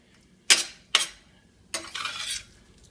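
Pastelillo filling stirred in a pan: two sharp utensil scrapes against the pan, then a longer scraping stir, close and distinct over a quiet background.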